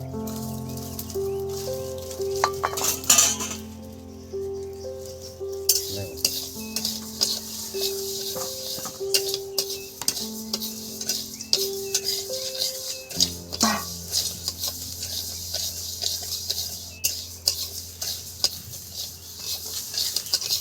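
Moong dal stirred in a dry pan without oil, steady scraping and clinking of a spoon against the metal for a long stretch, close up, with faint background noise and no talking.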